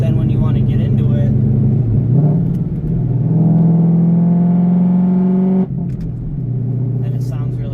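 A 2014 Ford Mustang GT V8 with a loud exhaust rumbles and revs from inside the car, a deep droning idle rising into a sustained higher rev before dropping back, loud and close, with voices talking over it.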